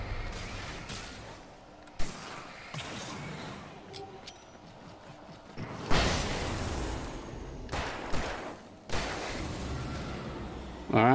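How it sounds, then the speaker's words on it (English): Several sharp blasts ring out in the dim setting of Alan Wake Remastered, each a sudden broadband burst with a short tail, spaced unevenly over the stretch and heard at moderate level over low game ambience. "Alright, we're gonna go through some flashbangs here"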